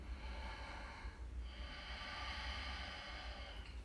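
Audible in-and-out breathing during a held yoga pose, two long airy breaths near the microphone over a low steady rumble, with no talking.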